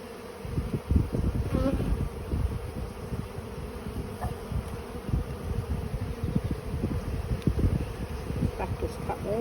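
Honeybees buzz loudly and continuously around an open hive during a spring inspection in Australia, a close, dense drone with some wind rumble on the microphone.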